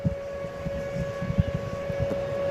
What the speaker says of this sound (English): Some kind of siren going off here at the ballpark.